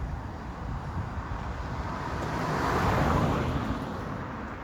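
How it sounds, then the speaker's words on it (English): Road traffic going by, a broad steady rushing roar that swells as a vehicle nears mid-way and then eases off, heard from a moderate distance with no voices. "Some traffic here."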